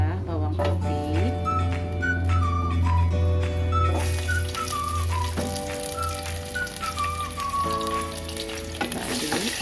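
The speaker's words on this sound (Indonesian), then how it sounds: "Setelah panas kita masukkan bawang merah, bawang putih," Shallots and garlic fry in hot oil for a beef soup made as baby food, a bright steady sizzle that sits beneath a prominent melodic tone and occasional soft knocks.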